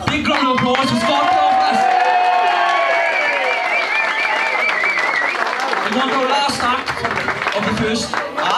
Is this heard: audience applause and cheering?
yes